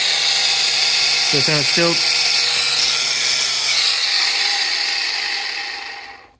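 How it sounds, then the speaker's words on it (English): A variable speed angle grinder polisher with a worn motor bearing runs steadily with a whining, warbling tone, close and loud, while a voice talks briefly over it before the sound tails off at the end. "So the cool thing about this one, the variable speed sander polisher, so we don't have to turn it on fast."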